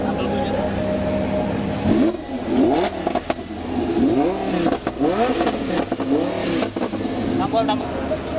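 A car engine fitted with a remote-controlled, adjustable exhaust revs repeatedly, each blip rising and falling in quick succession. People talk over the engine throughout.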